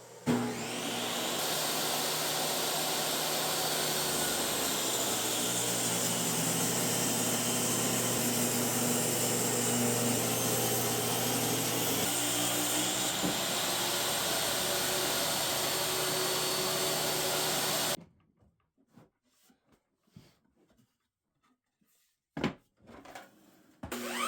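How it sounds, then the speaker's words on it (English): A table saw cuts wooden bookshelf pieces for custom furniture, making a loud, steady whirring roar for about eighteen seconds. It then stops abruptly, leaving quiet room sound and a few faint knocks. "then I cut the other side on the table saw"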